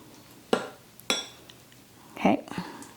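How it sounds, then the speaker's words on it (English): Sauce spooned into the bottom of a baking pan for baked ziti, heard as a few distinct metallic clinks and scrapes of a spoon against the pan, with soft handling noise between them and no talking. "I'm just going to lay down a little bit of sauce in the bottom of the pan"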